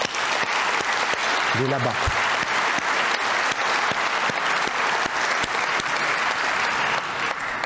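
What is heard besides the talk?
audience applause for Frédéric Denef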